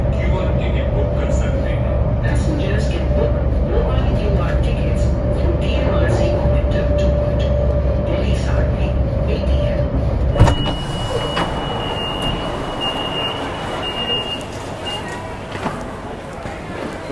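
Delhi metro train riding along, a loud steady rumble and hum that shifts abruptly partway through to a brighter rattling tone with faint beeps, people talking over it.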